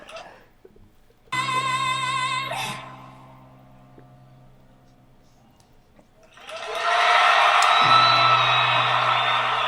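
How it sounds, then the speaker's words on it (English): A studio audience at a talent show erupts into loud, sustained cheering and whooping after a golden buzzer moment, swelling up after a brief lull and holding steady to the end. "That pause between that and the eruption of the crowd"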